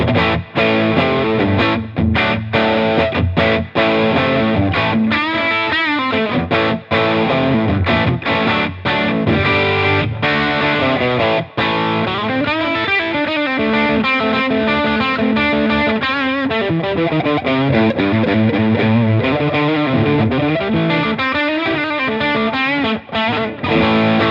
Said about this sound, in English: This is going to be like a sort of low gain crunch tone.